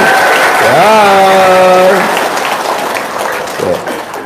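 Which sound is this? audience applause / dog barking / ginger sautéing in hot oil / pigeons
audience applause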